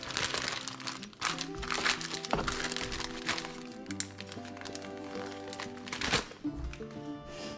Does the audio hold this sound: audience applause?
no